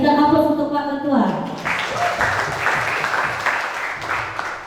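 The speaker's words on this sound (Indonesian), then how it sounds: "Sekali lagi berikan aplaus untuk Pak Ketua." A youth camp audience applauds the committee chairman at an opening worship service, and a steady round of clapping begins just after a voice finishes speaking.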